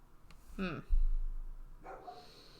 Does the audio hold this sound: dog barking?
yes